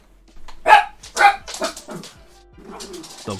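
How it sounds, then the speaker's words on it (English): A dog barks sharply at a car going by, a few loud close barks in quick succession followed by softer yips and whimpers. "Dog's going nuts because a car's gone by."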